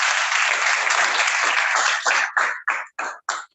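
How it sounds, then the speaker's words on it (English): An audience at a DBC event in Abuja applauds Dr. Amechi. A dense wash of clapping gives way to a few separate bursts of cheering or shouting near the end. "Can you clap for him, please?"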